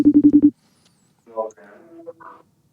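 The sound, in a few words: telephone call being dialed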